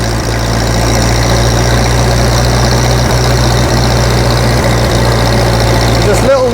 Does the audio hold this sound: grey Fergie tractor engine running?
yes